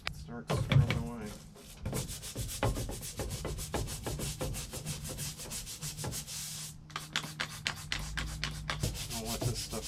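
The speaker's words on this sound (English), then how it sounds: "I'm just gonna wet it down and then start hitting it with the simple green. Start scrubbing away." Repeated scrubbing strokes on a filthy 1964 Plymouth Belvedere barn-find car being cleaned with Simple Green, a steady rapid rubbing rhythm up close with a brief pause near the start and another near the end.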